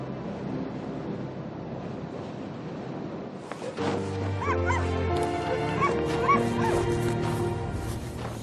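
Sled dogs bark, yip and whimper excitedly at home in an Arctic setting, a chorus of several animals growing louder and busier after a quieter, noisy stretch, close and continuous.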